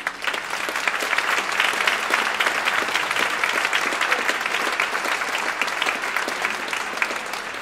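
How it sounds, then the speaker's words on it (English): An audience at a concert of the Wennberg Music Festival 2014 gives a big round of applause: dense, steady clapping from many hands, loud and sustained for several seconds with no voices over it. "Big round of applause, please."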